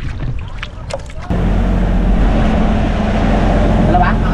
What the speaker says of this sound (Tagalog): sumusundo na yung ating motherboat